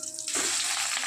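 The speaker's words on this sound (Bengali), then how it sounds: "বড়া ভাজা বসিয়েছি" Bora fritters frying in a pan of hot oil, a quiet start then a sudden loud, continuous sizzle close by.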